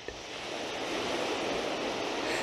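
Ocean waves wash in a steady, continuous surf hiss that stays broad and even throughout, with no distinct breaks or crashes, like a soft rolling shoreline heard up close.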